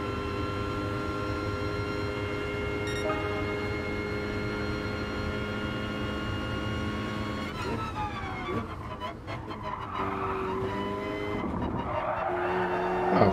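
A Mercedes A45 AMG race car in Gran Turismo Sport drones with a steady high engine note, then tires screech and skid partway through, with brief mechanical clatter as the run continues.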